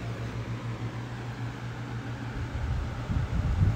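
A 20-inch high-velocity box fan with a small motor starts up at low power: a low motor hum and soft airy whoosh that build gradually, growing louder and rougher toward the end, close by.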